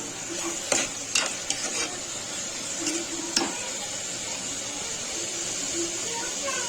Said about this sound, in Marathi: टोमॅटोला पण आपण परतून देणार आहोत।